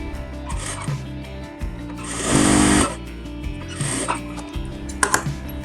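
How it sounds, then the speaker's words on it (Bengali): Sewing machine stitching a zipper onto a salwar pajama pocket, running in several short bursts with one longer, louder whirring run, close up over a low steady hum. "এই যে চেনের আর এক মাথা আছে এই মাথাটা এবার সেলাই দিয়ে বসিয়ে দেব"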